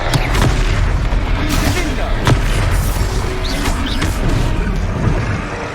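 Repeated Confringo fire-spell blasts from the Hogwarts Legacy video game boom out in a dense, loud, continuous battle mix, with sharp impacts every second or so over a rumbling low end.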